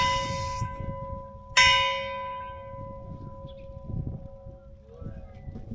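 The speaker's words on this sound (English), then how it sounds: "that's the bell" A church bell in a village square strikes once, loud and near, its ringing tone decaying slowly over several seconds beneath low outdoor rumble and a faint hum.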